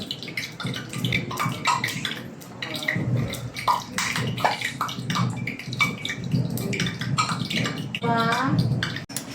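Tap water runs and splashes while vegetables such as carrots are washed under it, a continuous busy gush that stays close. Voices talk over the water.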